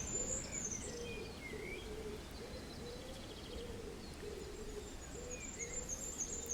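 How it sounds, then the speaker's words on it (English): A pigeon coos outdoors in open countryside near fields and trees, a soft repeated hooting call under a steady rural hum, with faint distant birdsong and no speech. "A pigeon every now and again."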